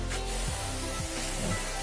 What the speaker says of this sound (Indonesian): langsung saja kita semprotkan ke tanaman anggur